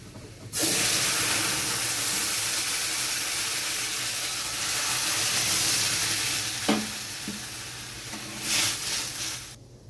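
Boiled lentils poured into hot oil with fried onion and dried chilli, a loud close sizzle bursting in and hissing steadily, with a couple of spoon scrapes and a fresh surge of frying near the end.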